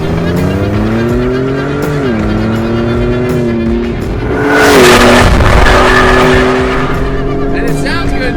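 A Hennessey Velociraptor 6x6 with a 600-horsepower engine drones loudly from inside the cabin, its revs rising and dipping through gear changes, with a surge of road and tire noise midway under ongoing talk.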